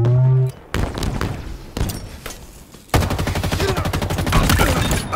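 Rapid automatic gunfire rattles in Halo Infinite multiplayer. A few separate shots and thumps come first, then a sustained, loud burst of fire runs to the end.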